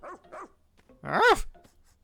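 A dog barks in the video game Pikmin 4: two short yips, then a louder, longer bark-like howl about a second later, all close and clear with no talk.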